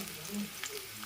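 Garlic, green chilli, carrot and other vegetables fry lightly in a pan for egg fried rice, a quiet continuous sizzle with a faint tonal murmur beneath.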